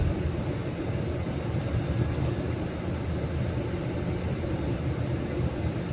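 A CRRC eD12 electric bus driving in peak hours gives off a steady, train-like hum and rumble, a continuous broadband drone with no breaks or voices.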